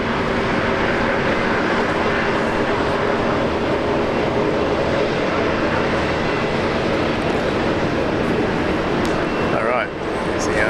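A Boeing 787 Dreamliner, an American heavy jet at Brisbane Airport, rumbles with a continuous broad engine roar throughout, while people talk over it.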